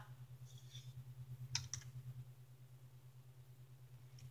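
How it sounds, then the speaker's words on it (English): Brief bursts of keystrokes on a computer keyboard while typing into a game chat, faint and quiet clicks clustered near the middle over a low steady electrical hum. "I'm gonna type in chat."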